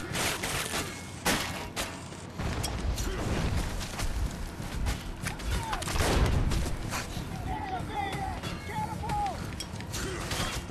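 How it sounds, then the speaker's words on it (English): Gunfire and grenade blasts ring out in the Metro Last Light video game, a rapid series of sharp shots and heavy booms with mechanical clatter, mixed with someone talking. "Let's throw some grenades."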